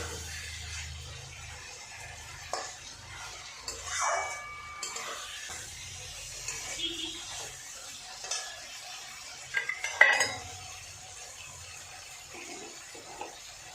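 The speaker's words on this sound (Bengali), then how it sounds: "আমার মশলাটা মানে অনেকটাই কষা হয়ে এসছে আমি আর একটু কষাবো" Spice paste is stirred and fried in a pan for a fish roe fritter curry, with a low sizzle under irregular spoon scrapes and knocks against the pan, close and fairly quiet.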